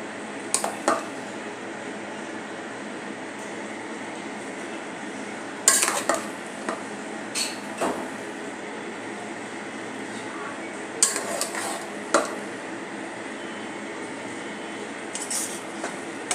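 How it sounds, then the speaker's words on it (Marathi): Grated carrot being sautéed with melted khoa in a pan for carrot halwa, a steady low hiss under occasional clinks and scrapes of a spoon against the metal, the strokes spaced apart and close by. "आता आपण हे गाजर किसलेला गाजर यामध्ये घालून घेऊया।"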